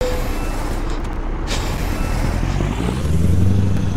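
A Mack Pinnacle truck in American Truck Simulator rumbles with a loud low engine drone and gives a sharp hiss of air brake release partway through, then the engine swells slightly toward the end.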